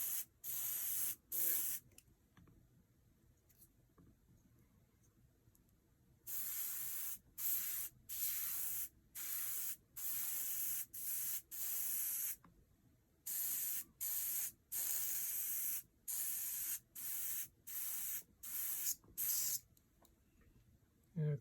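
An airbrush sprays paint over a magnetic stencil while painting a realistic lionfish, heard as a series of short, close hissing bursts with brief pauses between them, one longer stretch quiet.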